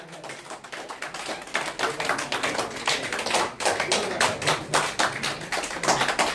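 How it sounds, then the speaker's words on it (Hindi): A group of people clapping hands loudly together, a dense, continuous patter of many overlapping claps with an uneven rhythm that keeps going for several seconds. "जोरदार ताली के साथ, जोरदार क्लैपिंग"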